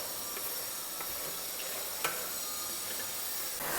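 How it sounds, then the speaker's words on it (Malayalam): Chettinadu meat biryani masala is stirred in a pan over a soft steady sizzle, with light scraping and a few faint utensil taps against the metal. "ഇതൊന്ന് നന്നായിട്ട് ഇനി നമുക്ക് തുറന്ന് വെച്ച് നന്നായിട്ടൊന്ന് ഇളക്കി കൊടുക്കാം"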